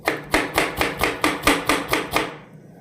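A knife chops through onion on a cutting board in a steady run of about nine crisp, evenly spaced strokes, close and clear, ending in quiet, with no talk.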